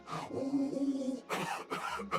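A video game character in Wylde Flowers gives a short throaty cough and clears the throat, a few quick close bursts heard alone.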